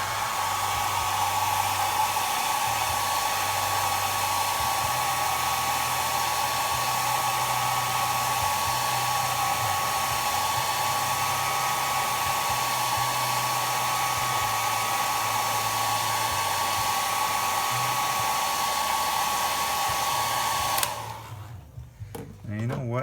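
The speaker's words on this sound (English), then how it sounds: "Trusty hair dryer, 1500 watt hair dryer" A 1500 watt hair dryer blows at full power with a steady high whine and airy rush for about twenty seconds, then switches off abruptly near the end.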